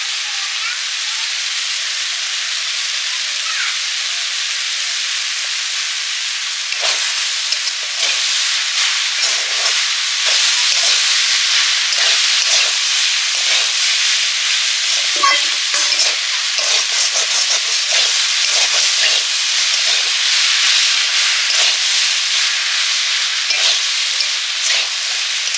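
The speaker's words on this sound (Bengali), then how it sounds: "শাক ভাজা তো প্রায় হয়ে গেছে।" Water spinach (kalmi shak) frying in a pan with salt and turmeric, a steady close broadband sizzle and hiss running throughout, with scattered crackles and stirring scrapes growing busier in the second half; no talking.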